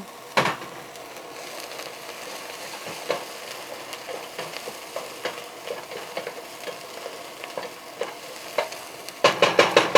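Food sizzles in oil in a frying pan while chicken Alfredo fettuccine is being made, giving a soft steady crackle with scattered pops and a few louder clatters of stirring at the start and end.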